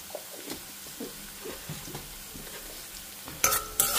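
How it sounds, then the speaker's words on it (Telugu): Onions frying with turmeric in a pan for poha upma, soft sizzling with light stirring and occasional utensil scrapes, then a couple of louder clattering pan knocks near the end. "ఆనియన్స్ కొంచెం వేగాలన్నమాట, కొంచెం వేగితేనే బాగుంటాయి"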